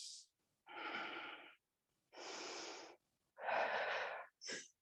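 Someone doing a Pilates hold with a dumbbell breathes in slow, audible cycles: four long, breathy exhalations and inhalations, separated by short silences, close and fairly quiet, ending in a brief sharper breath.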